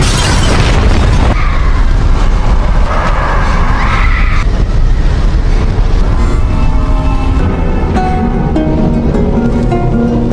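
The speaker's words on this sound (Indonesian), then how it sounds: "ledakan pun mulai terjadi di area dalam gedung" A loud, booming explosion erupts inside a building in The Last of Us video game, with a heavy rumble, followed by crackling debris and a lingering low roar as it fades out.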